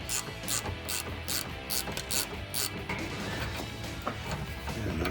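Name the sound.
ratchet loosening leaf spring shackle bolts on Toyota Tacoma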